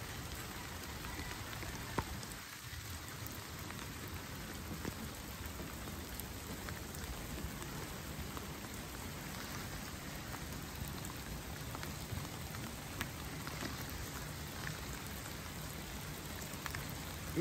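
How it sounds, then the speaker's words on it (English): Hailstorm falling steadily on garden plants outdoors, a dense, even patter of ice hitting leaves and surfaces that continues without a break throughout. "The hail was so strong that my plants were destroyed"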